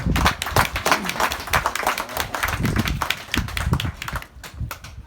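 An audience at a public gathering breaks into lively clapping, with many sharp hand claps close and loud that thin out and fade over the last second.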